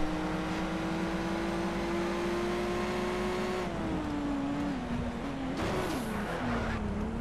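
A race car engine in Need for Speed Shift holds a steady high drone, its pitch dipping and shifting midway as the car scrapes and skids, loud and continuous with no talk.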